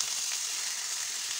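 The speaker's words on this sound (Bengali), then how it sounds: "এটা একটু হালকাভাবে ভেজে নেব।" Carrots and beans frying lightly in a pan with chillies, a steady close hiss of sizzling oil that continues evenly without a break.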